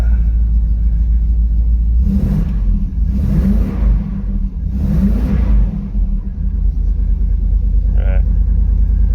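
A Triumph Stag's engine idles in a garage as a low, steady rumble, with three surges of revving rising and falling over the middle of the run, close and loud.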